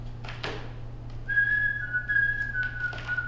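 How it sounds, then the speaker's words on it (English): A person whistles a short family signal tune, a clear high sustained note sliding slightly in pitch, heard alone over a low steady hum after a brief soft rustle. "That's our sacred family whistle,"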